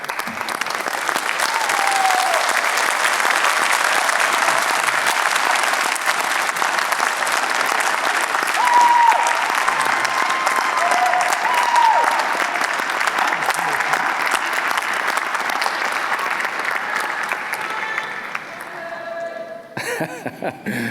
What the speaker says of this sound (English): join me in a round of applause to say thank you for all they've done